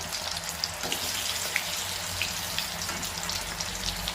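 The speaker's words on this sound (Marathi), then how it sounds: "तेल तापलेलं आहे, छोले टाकूया।" Chickpeas dropped into hot oil in a kadhai over a high flame, giving a loud, continuous dense sizzle with small crackling pops throughout.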